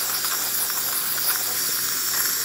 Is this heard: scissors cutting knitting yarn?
no